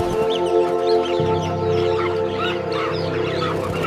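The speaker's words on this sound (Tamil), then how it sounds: "அனைத்து பறவைகளும் கத்தி கூச்சலிட்டு வானத்தில் பறக்க ஆரம்பித்தன." Animated story scene of a whole flock of birds screeching and crying out as they take to the sky, a dense, loud chorus of squawks and honks layered over a low sustained backing.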